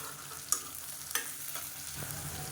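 Halved small onions sautéing in oil with rock salt for mutton sukka, a soft continuous sizzle with a few sharp scrapes of a spoon stirring the pan.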